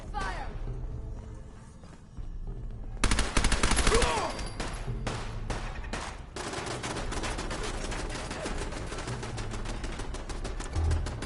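Rapid video-game gunfire in Fallout: after a quieter opening, loud automatic bursts and sharp single shots break out and keep crackling densely, with voices calling out between the shots.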